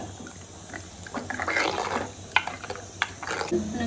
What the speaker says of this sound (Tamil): காயெல்லாம் வேகணும், அதனால் கொஞ்சமாக இந்த அளவு தண்ணி சேர்த்துக்கிறேன்.